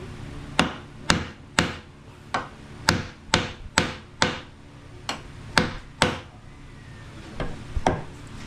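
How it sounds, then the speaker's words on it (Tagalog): A hammer strikes a piece of wood held as a buffer so the metal head does not hit the work directly. About a dozen sharp, close knocks come at an uneven, unhurried pace, with no voices. "Kahoy pang pokpok para hindi direkta sa martilyo."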